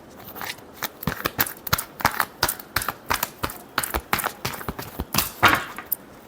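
Tarot cards are shuffled in a rapid run of crisp, close riffling snaps and taps that keep an uneven rhythm throughout.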